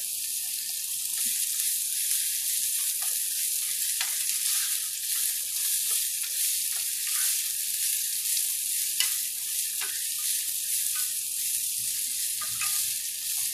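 Onions and peppers sizzling in a pan, a loud, even hiss that holds steady throughout with faint crackles and small pops, no talking.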